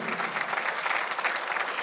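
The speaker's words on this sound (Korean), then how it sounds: "박수를 치며 하나님께 영광을 돌리시라." A church congregation breaks into sustained applause during a Korean sermon, a dense, even wash of many hands clapping throughout, fairly close and steady with no speech over it.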